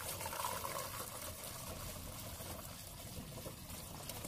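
A gallon of water poured through a funnel into a fresh water tank, a steady splashing trickle running continuously and fairly close, with wind noise on a breezy day in the background.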